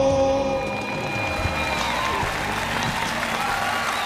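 A television job-seeking show audience claps steadily after a contestant's song, a dense, even wash of applause from a studio crowd that holds for several seconds without letup.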